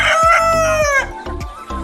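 Desi chickens on a poultry farm, one rooster-like crow up front followed by a string of close, loud clucks and calls, with no talking.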